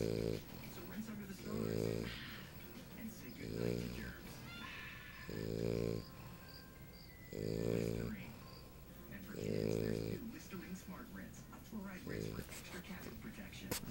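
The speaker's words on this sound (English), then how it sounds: "Some more of her snoring." An English Bulldog puppy snores while asleep on a couch among toys and pillows, giving five or six slow, rhythmic rasping snores spaced about two seconds apart, close and soft against a quiet room.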